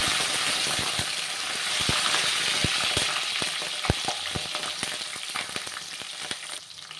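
Curry leaves and green chillies frying in hot oil after mustard seeds, a loud continuous crackling sizzle with sharp pops and spits scattered across the whole stretch, no talking.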